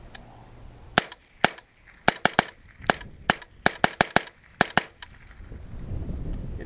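An AR-15 shooting .22 Long Rifle rounds fires about fifteen sharp, close cracks in quick irregular strings and doubles, ending with a low rumbling rustle.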